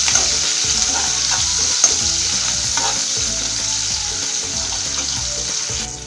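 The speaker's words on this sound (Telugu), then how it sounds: "కొన్ని ఉల్లిపాయ ముక్కలు, కొంచెం కరివేపాకు వేసుకొని చక్కగా" Onion pieces and curry leaves fry in hot oil while being stirred in a pan for dhaba-style spinach dal, giving a steady, close sizzle with soft stirring scrapes throughout and no talking.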